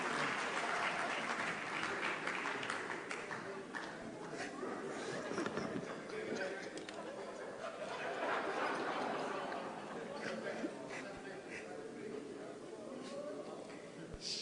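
An audience claps in sustained, dense applause that holds steady for a long stretch at a formal gathering, heard from a distance.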